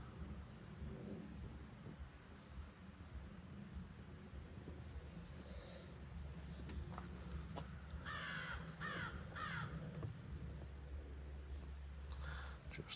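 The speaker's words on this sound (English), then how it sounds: "The crows are hollering." Crows caw outdoors beside a camp stove burning alcohol to brew coffee. The harsh calls come in a quick cluster of several at moderate distance, under a low rumble of background noise.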